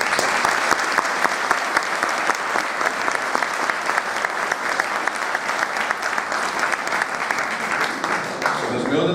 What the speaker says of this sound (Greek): ένα ζεστό χειροκρότημα σε όλους